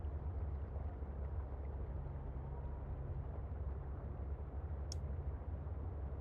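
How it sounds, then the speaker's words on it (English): Steady, droning engine hum of the Seatruck submarine in Subnautica: Below Zero, a broad fan-like whir held evenly throughout with a brief high click near the end. "C-Truck's engine sounds like a box fan."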